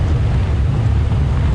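Strong wind buffets the microphone during an open-vehicle safari drive at the Djuma and Arathusa game reserves, a loud, continuous low rumble with no break.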